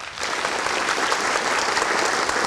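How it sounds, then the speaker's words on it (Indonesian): Studio audience at an Indonesian political talk show breaking into applause, a thick even roar of clapping hands that starts abruptly and holds steady throughout, with no speech over it. "kita berikan tepuk tangan untuk Direktur Eksekutif Poltreking Indonesia Hanta Yuda"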